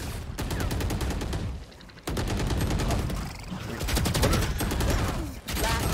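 Heavy automatic gunfire in the Valorant shooter game, rapid sustained bursts of shots in several long volleys with short pauses between them.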